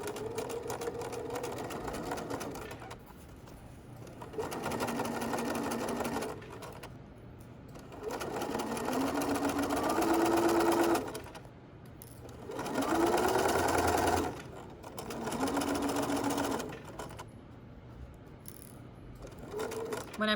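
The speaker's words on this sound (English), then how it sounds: "we can begin sewing" Sewing machine stitching a patch pocket in steady mechanical runs, stopping and starting several times with short pauses between bursts, close and fairly loud, with no talking.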